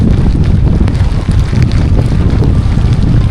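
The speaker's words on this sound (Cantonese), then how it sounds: "係好誇張，好誇張，係呼聲嗰啲風" Strong, steady wind roars and buffets the microphone with a heavy low rumble, loud and unbroken throughout.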